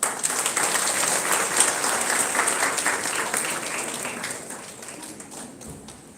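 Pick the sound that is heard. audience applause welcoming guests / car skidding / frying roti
audience applause welcoming guests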